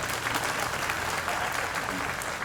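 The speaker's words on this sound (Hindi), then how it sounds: "लेकिन ताली बज रही है" An audience claps continuously during a Hindi motivational talk, a dense, even wash of applause from many hands at a steady level with no pauses.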